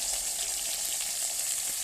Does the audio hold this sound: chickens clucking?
no